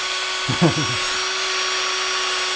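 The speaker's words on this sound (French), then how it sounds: "Tu vas venir fixer ta vis dans le mandrin de la perceuse" A cordless power drill spins a screw clamped in its chuck against steel wool, a brief whirring burst that winds up and down in under a second over constant loud background hiss.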